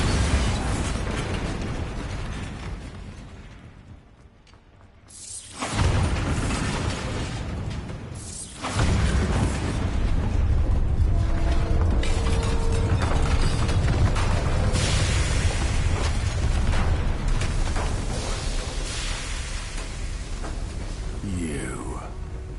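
The Bombarda explosion spell in the Hogwarts Legacy video game goes off as a loud booming burst with a rushing blast, preceded by a brief quiet dip and followed by sustained rumbling combat noise with voices under it.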